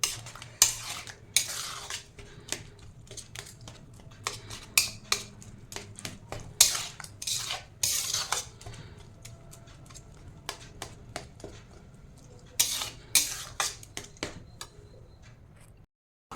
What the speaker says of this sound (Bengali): ভালো করে নারকেলের সাথে মিশিয়ে নিই, গুড়টাকে মিশিয়ে নিয়ে তারপরে গ্যাসে বসিয়ে দেবো।